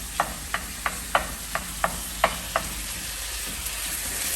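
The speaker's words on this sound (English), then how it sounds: "And just literally stirring this through." A spoon stirs chickpea curry in a pan in a run of about eight evenly spaced, crisp scraping taps over a soft sizzle, after which only the low frying hiss remains. Nobody speaks.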